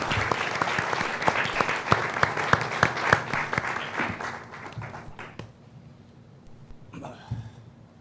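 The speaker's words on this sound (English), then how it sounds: "please, a round of applause for our panelists as we get started" Town hall audience in South Texas applauding panelists, with loud individual claps standing out in the crowd before the clapping dies away, leaving near quiet and a brief cough or stir.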